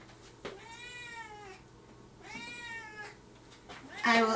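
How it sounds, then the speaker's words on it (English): A house cat meows twice indoors, each a clear drawn-out cry of about a second, close and fairly loud, followed by a brief sharp sound at the end. "You can hear her meowing."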